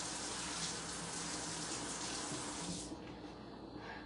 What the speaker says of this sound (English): I have a sink with some water with a little bleach in it.